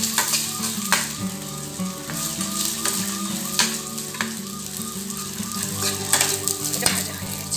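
Ingredients for Brahmapur-style biryani fry in a pan, giving a loud, continuous sizzle with stirring scrapes and occasional utensil taps close by.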